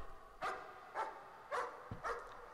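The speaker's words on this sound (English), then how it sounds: "A dog." A dog in the horror video game Layers of Fear barks four times in an evenly spaced series, moderately loud and a little distant, with no talk over it.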